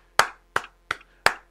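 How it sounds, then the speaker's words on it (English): Four sharp hand claps ring out one after another at an even pace, close and loud against silence. "We'll give you a few claps."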